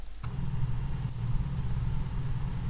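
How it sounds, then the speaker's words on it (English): Vehicle engines hum at a quiet, steady low drone throughout, an even rumble with no sharp changes and nothing else standing out. "Listen how quiet the engines are."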